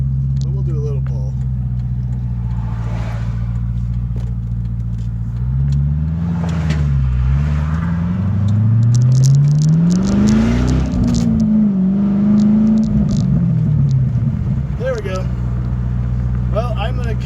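A 2004 Pontiac GTO idles and then makes a short pull on a 35 mph neighborhood street, its deep engine note rising and falling through revs before settling back to a steady rumble, loud and close.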